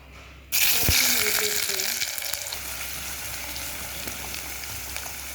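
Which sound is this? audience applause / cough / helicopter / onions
onions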